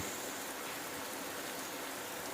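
Steady rain falls continuously around a rural family home on a cold day, a dense even hiss with no clear individual drops and no voices.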